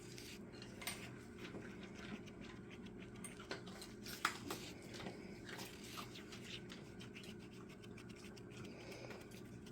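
Epoxy resin for a tumbler coating being stirred in a cup: quiet, continuous scraping and rubbing of a stirrer around the sides and bottom, with occasional small taps against the container.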